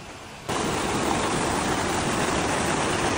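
Water rushing down the Zarati waterfall in Georgia, a steady, loud broadband roar that kicks in abruptly after half a second and then holds constant, with no voices over it.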